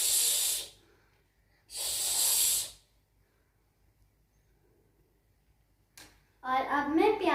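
Water running over onions being washed, heard as two short, hissing gushes from a tap separated by silence, followed by a voice speaking.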